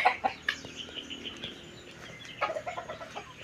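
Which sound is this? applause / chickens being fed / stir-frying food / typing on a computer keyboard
chickens being fed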